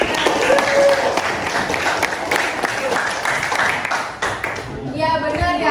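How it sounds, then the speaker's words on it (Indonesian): Classmates applaud throughout a high school classroom lesson, steady dense clapping carrying to the end with voices and chatter mixed in. "Kasih tepuk tangan dulu sama teman-teman."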